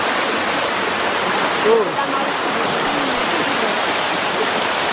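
Steady broadband rush of the Curug Kanoman waterfall in Batang, Central Java, heard from above the falls, continuous and fairly loud, with a brief spoken word over it.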